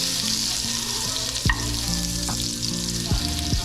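Butter melts slowly in a pan over low heat with a steady, gentle sizzle. A few soft scrapes and clinks of a utensil break through the frying noise.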